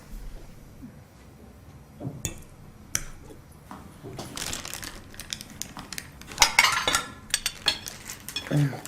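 A fork and other cutlery clink and scrape against a plate at a breakfast table, scattered taps and sharper clatters building toward the end, close and fairly loud with no talk over them.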